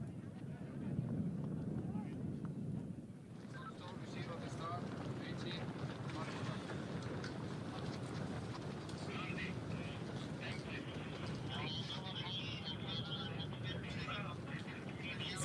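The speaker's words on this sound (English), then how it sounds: "It's getting a little bit blowy out here." Gusty wind at a ski slalom course in the mountains, a continuous rushing roar buffeting the microphone, with a voice talking faintly underneath.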